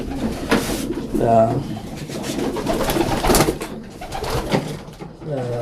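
Pigeons in the hen section of a loft coo nearby, with several rounded, repeated coos rising over the continuous chatter of people talking close by.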